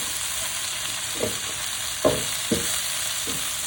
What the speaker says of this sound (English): I'm going to add the onions. I'm going to fry these down a little bit